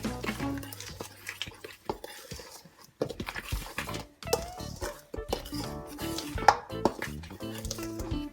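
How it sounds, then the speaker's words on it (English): Yeast and salt being mixed into flour in a bowl for quick bread, heard as soft irregular scraping and clinking of a utensil against the bowl, fairly quiet, with short pauses between strokes. "So now I'm gonna mix in the yeast and the salt into the flour"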